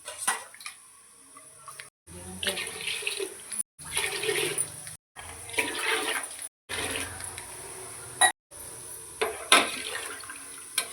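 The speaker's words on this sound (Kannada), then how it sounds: "ಇವಾಗ ನಾನು ನೀರು ಹಾಕ್ಕೊಳ್ತೀನಿ." Water pours steadily into a pot for mutton biryani nearby, in several separate rushing bursts broken by brief silences.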